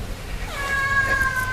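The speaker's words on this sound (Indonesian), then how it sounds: "Kenapa ada kucing di sini?" A single cat meows close by, a rising then falling call heard alone over a quiet background.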